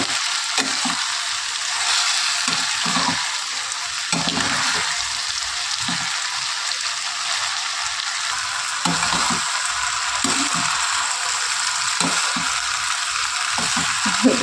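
Cauliflower and potato palya frying in a pan gives a continuous hissing sizzle, broken by regular scraping and clacking stirs of a spatula against the pan.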